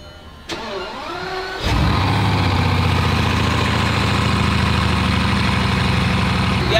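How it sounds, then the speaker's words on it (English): A Bugatti engine cranks briefly, then catches and roars to life up close before settling into a loud, steady deep idle with a rich mechanical hum. "I'm forced to drive a Bugatti. So even though time is limited, somebody's gotta do it. So let's take it out."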